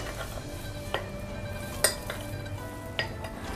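Cornstarch and a spoonful of water stirred together in a bowl for a Chinese steamed fish recipe, with soft scraping and a few sharp clinks of spoon against the dish, close and alone.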